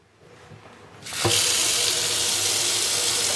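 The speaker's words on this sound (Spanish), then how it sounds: "la dejo botando agua, sé que está botando agua" A water tap is opened partway through, and a steady, loud rush of running water follows, continuing unbroken to the end with no voices.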